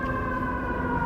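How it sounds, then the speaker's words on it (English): Ambulance siren on a Chicago street, a steady sustained wail heard from some distance over low traffic rumble, with no talk. "Here comes some sirens."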